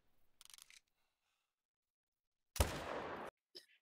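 A single loud rifle shot from a .300 hunting rifle in theHunter: Call of the Wild, a sharp broadband crack with a short decaying tail, followed by a brief small click, with quiet faint sounds before it.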